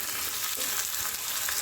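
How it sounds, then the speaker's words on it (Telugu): Fish frying in a pan of oil over fairly high heat, a steady, close hiss of bright sizzling that runs without a break for a short stretch. "ఇది కొద్దిసేపు ఫ్రై అయిన తర్వాత దీంట్లో పసుపు వేసుకుందామండి"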